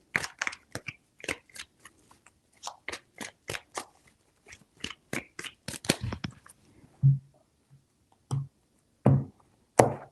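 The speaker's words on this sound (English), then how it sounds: "3 shuffles." Tarot cards shuffled close up: quick runs of crisp slaps and riffles, then a few spaced, heavier taps as the deck is settled, alone without talk.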